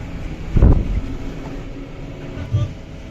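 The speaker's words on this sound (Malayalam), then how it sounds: "ഹെവി ആയിട്ടുള്ള കാറ്റും മഴയാണ് ഇവിടെ ഇപ്പൊ പെയ്തുകൊണ്ടിരിക്കുന്നത്" Heavy wind and rain in Kerala, a steady broadband roar with low rumbling gusts swelling near the start and again toward the end, loud and close with no talk.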